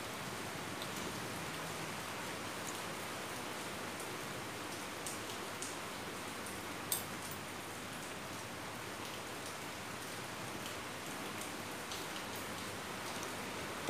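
Steady rain falls outside a busy noodle shop in Phuket, a dense, even patter of drops on surfaces that holds for the whole stretch with no voices.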